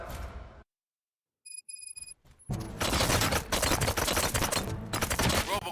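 Gunfire erupts in the Robocop video game, a burst of rapid shots that becomes loud, dense and continuous after a brief near-silent pause with a few electronic beeps.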